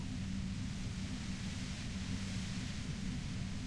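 Dense, steady white-noise roar near a compressor in the video game Disco Elysium, loud and unbroken throughout with a low rumbling band underneath and no talk.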